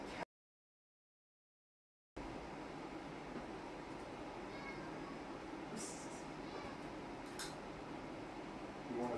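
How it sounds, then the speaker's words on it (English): A domestic cat with fleas, waiting for food, meows a couple of times, fairly faint, over the steady whir of a fan after a brief silent gap. "We have a cat."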